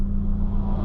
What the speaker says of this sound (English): Nice little Porsche,